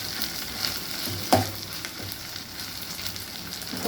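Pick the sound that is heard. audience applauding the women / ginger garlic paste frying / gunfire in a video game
ginger garlic paste frying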